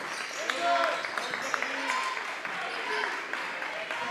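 A lively crowd roars steadily at an 8th grade boys basketball game between Taylorville and Chatham Glenwood, with sneaker squeaks cutting through the noise.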